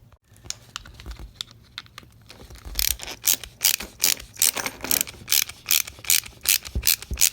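A screw is turned into a plastic phone head strap, giving a rapid series of sharp ratcheting clicks in bursts that grow louder and more regular toward the end, close up and alone.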